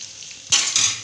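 Onion hits a hot pan of crisp-fried potatoes with a sudden loud sizzle, followed by a second burst of frying and the scrape of stirring.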